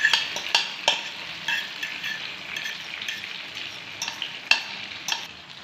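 A paste of potato, onion, green coriander, red chilli, salt and three eggs is stirred into tomatoes frying in a pan. Sharp spoon scrapes and taps cluster at the start over a constant bright sizzle, with a few more strokes later.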